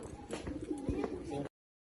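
Pigeons coo close by in a bird enclosure at a cow shelter, several soft rolling coos overlapping over about a second and a half before the sound cuts off.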